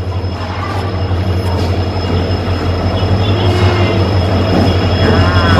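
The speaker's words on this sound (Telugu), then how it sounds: "సో ఇది మా ట్రైన్, మేము ఇప్పుడు ఎక్కబోయే ట్రైన్." The Rayalaseema Express pulls into a station on the way to Tirupati, a loud, close rolling rumble with squealing wheels and rhythmic clatter that builds steadily.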